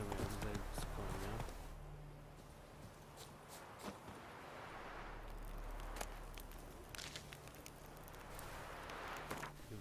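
Horse hooves clip-clopping in The Witcher 3 video game, a quiet irregular series of hoof taps over a low background rumble and ambient game sound.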